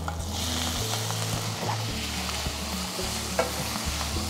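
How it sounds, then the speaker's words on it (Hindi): Cut potatoes drop into hot tempering oil with curry leaves and sizzle loudly, while a spoon stirs them with repeated scraping knocks against the pan, all close and without speech. "अब हम इसमें डालेंगे ये कटे हुए आलू"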